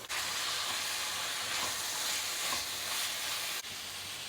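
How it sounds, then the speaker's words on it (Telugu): Washed chicken lands in a pan of frying onions, and a loud, steady sizzle rises from the hot oil. The hiss carries on without a break, apart from a brief dip near the end. "ఆనియన్ ఇలా కొంచెం మగ్గాక దీనిలో మనం కడిగి రెడీ చేసి పెట్టుకున్న చికెన్ వేసుకోవాలి"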